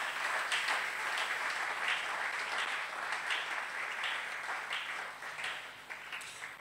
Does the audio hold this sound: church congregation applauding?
yes